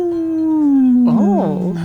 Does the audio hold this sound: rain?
no